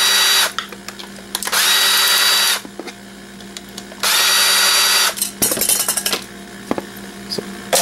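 Screws are backed out of alarm-system parts with a power drill: two sustained high whirring bursts separated by pauses, then rattling and clinking of small metal parts, close up.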